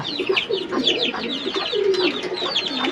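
Pigeons scuffle in a coop, giving repeated rough coos and throaty calls in quick, agitated bursts close to the microphone.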